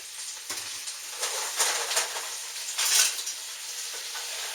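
Collard greens seasoned with salt, pepper and distilled vinegar sizzle steadily in a hot pot, with a few louder bursts of frying and faint stirring through the continuous crackle.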